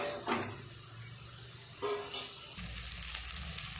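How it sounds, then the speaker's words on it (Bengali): Lote fish cooking in a frying pan with a little water, stirred until it dries off, giving a steady soft sizzle with a few brief scraping stir strokes, fairly quiet and close. "নেড়ে নেড়ে জলটাকে শুকিয়ে নেবে, শুকিয়ে গেলেই হয়ে যাবে আমার আজকের রেসিপি।"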